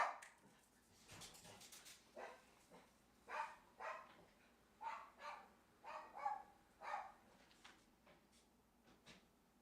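A dog barks indoors in a series of about eight faint, spaced barks and yips, distant from the microphone, over a quiet room background with no talk.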